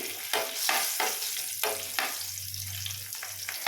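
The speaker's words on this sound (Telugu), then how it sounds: "ఎల్లిపాయలు పచ్చపెచ్చగా దంచేసి వేసుకోవాలి ఎల్లిపాయలు తిప్పుకోవాలి" Crushed garlic fries in a pan with a bright sizzle while a utensil stirs it in a rhythmic series of sharp scraping strokes, close by, with no voices.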